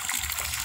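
Water gushing from a well into a 500-litre storage tank, a steady, loud broadband rush with no pauses or talk.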